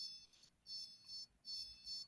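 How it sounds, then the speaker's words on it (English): A Dolphin Neurostim device emits high, thin electronic beeps, four short tones in an even rhythm, faint and clean with nothing else around them. "you're going to count 10 beeps"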